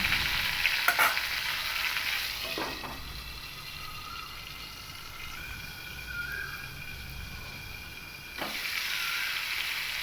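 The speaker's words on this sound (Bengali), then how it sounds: "এবার এই পটলটাকেও কিন্তু আমি ঢাকা দিয়ে দিয়ে খুব ভালো করে একটু ভেজে নেব" Pointed gourd (potol) frying under a lid in a pan gives a steady, close hiss of sizzling oil, with a few brief clanks and scrapes breaking through along the way.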